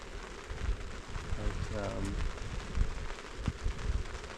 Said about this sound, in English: that rain did come around on us